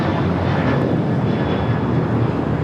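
An American Airlines Boeing 737-800 on its takeoff roll to Chicago at Los Angeles airport gives a loud, steady broadband jet roar with a faint whine, constant across the short stretch and without voices.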